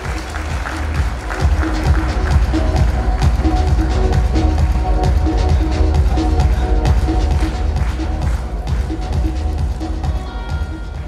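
A conference audience claps and cheers at the inauguration of an international kindergarten conference, loud and sustained, thick with overlapping claps and crowd noise that continue without a break from start to finish.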